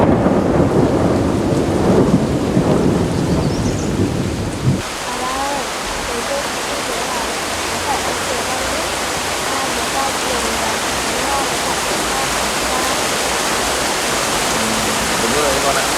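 Heavy rain pours in a dense, constant hiss, with a deep rolling thunder rumble in the first few seconds before it fades, leaving loud steady downpour throughout.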